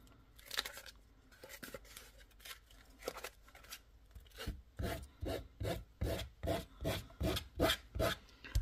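Sandpaper rubs across an MDF tag in a run of close, rhythmic scratchy strokes, sparse at first and then steady and evenly spaced, with no talk over them.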